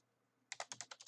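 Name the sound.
typing on a computer keyboard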